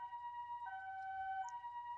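Ambulance siren in a visual novel video game, a steady two-tone wail alternating pitch once mid-way, sustained and moderately faint, with no talk over it.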